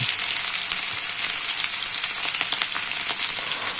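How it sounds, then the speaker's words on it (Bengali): Ginger and green chilli frying in hot mustard oil give off a steady, dense sizzle with faint crackles throughout, loud and close, with no voices. "গরম তেলের মধ্যে আদা ফোড়ন দেব, কাঁচা লঙ্কাটাও দিয়ে দেবো, দিয়ে নাড়িয়ে চাড়িয়ে"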